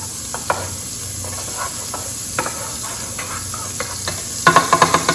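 Butter sizzles and hisses in a pan of hot olive oil, a steady soft frying hiss with faint crackles, rising to a brief louder burst of spattering near the end.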